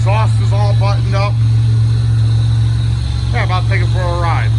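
A Buick Grand National's freshly installed engine idles with a steady low drone throughout, while someone talks over it in two short bursts.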